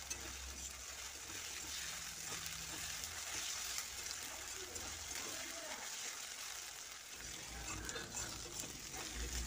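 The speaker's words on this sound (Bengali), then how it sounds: "আদা রসুনকে আমি 1 মিনিট মতো ভেজে নেব।" Ginger garlic paste fries in hot oil with a steady, faint hiss and crackle of sizzling that runs continuously, with occasional soft stirring scrapes and no talking.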